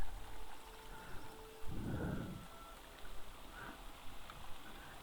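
Soft steady hiss of a running shower in a decorated house in The Elder Scrolls Online, faint ambient water spray with a brief swelling gush in the middle, no voices.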